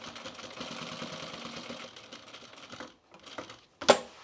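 A sewing machine stitching Esmond pants below the flap, whirring in a steady rapid rhythm close by, then pausing briefly before a sharp mechanical clack at the end.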